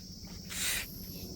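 Insects buzzing and chirring in the Atlantic forest of Brazil, a steady high-pitched drone that swells louder for a moment midway before settling back, with no voices.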